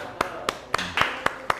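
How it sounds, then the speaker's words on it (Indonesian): Classroom applause in short bursts: about six sharp, separate claps spaced roughly evenly over a second and a half, moderately close, with a faint room murmur between them. "Tepuk tangan."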